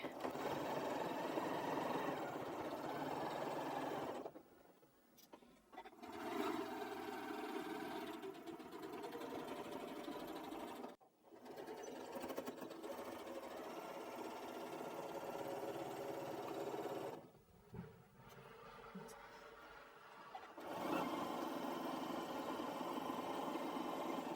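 A sewing machine stitching a cushion runs in long steady whirring bursts, close and loud, pausing briefly between runs.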